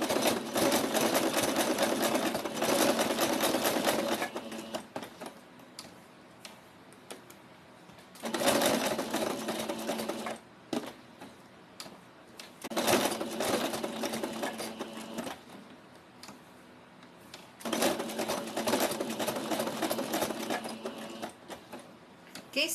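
Sewing machine running a small straight stitch, steady rapid mechanical whirring in several long bursts separated by short pauses, close and clear with no talking.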